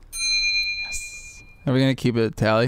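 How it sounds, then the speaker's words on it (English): A single bright bell strike rings out at the start and decays over about a second, followed by a short sound effect, then people talk on a radio show. "I'm going to try and play the bell"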